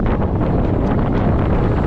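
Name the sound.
strong mountain wind on a trek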